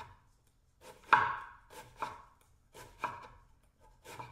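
Knife chopping soy into small pieces on a board: a series of sharp, close thuds in an uneven rhythm, about six cuts with short pauses between them, heard alone.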